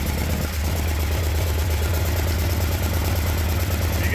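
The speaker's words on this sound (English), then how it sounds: "Probably going to idle it up here just a little bit" An old tractor engine idles at slightly raised RPM, a steady, loud low rumble with constant vibration running unbroken and close by, with no talking.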